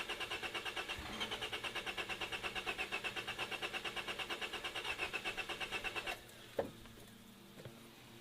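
A car engine cranks over with a steady, fast rhythmic chug for about six seconds without catching, then stops, leaving a couple of faint clunks.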